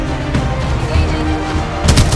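Gunfire in the shooter game Apex Legends, including a Mastiff shotgun, comes as dense, loud, booming shots. Heavier blasts land near the end.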